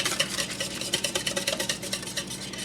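Milk and egg mixture for a Pennsylvania Dutch blueberry custard pie is whisked in a bowl, with a quick, steady clatter of utensil against the sides, fairly close and with no talking.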